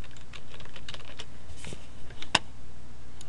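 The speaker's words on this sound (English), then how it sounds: "Now we can type in interstate." Quick, close keystrokes clatter on a computer keyboard in a steady run of soft taps, with one sharper click near the end and no talking.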